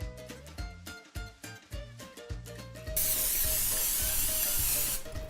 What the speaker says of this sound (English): spray a little bit of olive oil over the entire surface.